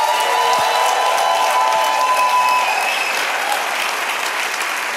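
A church congregation applauds a visiting pastor, a loud, dense, continuous wash of hand clapping with light crowd cheering that holds steady before easing slightly toward the end.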